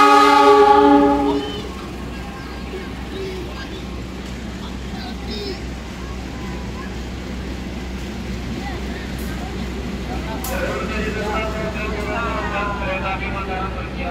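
The Argo Bromo Anggrek train from Surabaya arrives at a busy Jakarta station, opening with a loud horn blast, then a long steady rolling rumble of wagons, with station sounds and speech throughout.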